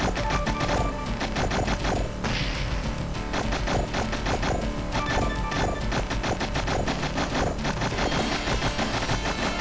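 Retro arcade gunfire from Capcom's Mercs as trees are shot out, a steady rapid stream of chiptune-style shots and crashes over loud continuous game music.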